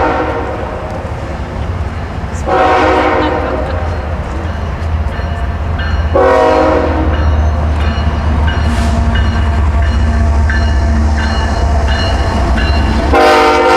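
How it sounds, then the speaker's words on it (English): A long tanker freight train rumbles steadily past up close on the Metra Heritage Corridor line, wheels clattering continuously, with several loud horn blasts sounding at intervals over the rolling noise. "that very long tanker train that's going to come through here in about 2 minutes"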